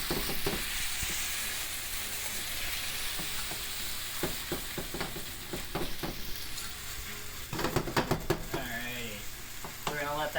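Food sizzles steadily in a frying pan, a bright, constant hiss broken by scraping and clacking as it is stirred, with a brief voice near the end.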